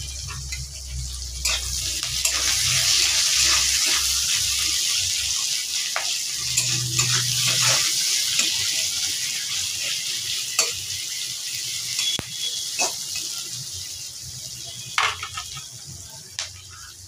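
Onions sizzle in a pan, salted to draw out their moisture, while cooking for a minced-meat khichuri. A steady frying hiss runs throughout, broken by occasional stirring clicks and scrapes of the spoon.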